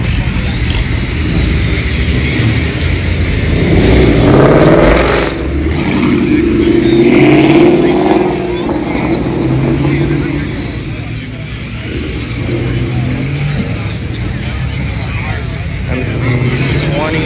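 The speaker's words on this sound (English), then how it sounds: "MC20 Maserati." A Maserati MC20 supercar engine at a car meet, a loud, close rumble that swells with a rev near the middle and then settles, while people talk and crowd noise carries on around it.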